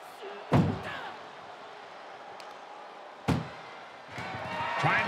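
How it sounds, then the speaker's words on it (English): Ambulance door slammed shut in the WWE 2K24 wrestling video game, two sharp heavy slams a few seconds apart, loud and close, over crowd and arena noise. "Trying to at least slam one door shut."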